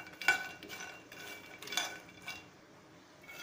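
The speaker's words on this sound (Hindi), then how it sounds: "गैस को बिल्कुल लो कर देंगे और चलाते जाएंगे जिससे मखाने जल ना जाए" Makhana (fox nuts) being stirred while dry-roasting in a pan over a low gas flame: soft scraping and a few light clinks of a spoon against metal, fairly quiet, with two sharper strokes.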